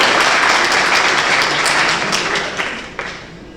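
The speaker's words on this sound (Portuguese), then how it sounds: "Uma salva de palmas para o Rafael." Dense audience applause for speaker Rafael at a web accessibility talk, loud and continuous from the start, gradually thinning out toward the end with a few isolated claps.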